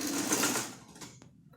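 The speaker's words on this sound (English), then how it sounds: "So this is how you are going to sew it till we get to the last line." Sewing machine stitching organza fabric for a rose flower, a brief loud burst of fast whirring stitches that cuts off and leaves a faint click and quiet room tone.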